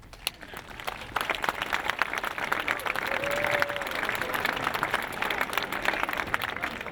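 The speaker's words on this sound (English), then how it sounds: "A round of applause would be fine." Applause from an audience at a high school building opening fills the room, many hands clapping in a steady, moderately distant wash, with a faint whistle-like tone briefly rising in the middle.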